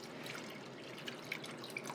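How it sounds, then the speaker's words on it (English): Water poured into a pot of curry chicken, a soft steady trickle with faint drips and splashes, quiet and close, no talking. "I'm going to add another 3 cups of water on top of that"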